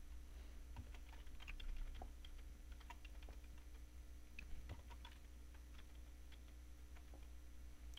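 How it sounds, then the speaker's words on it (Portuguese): Computer keyboard keys pressed, Ctrl J and arrow keys, while working in 3ds Max modeling software: faint, scattered, irregular clicks over a quiet background hum. "pressionando Ctrl J e movendo as setas do teclado para o lado"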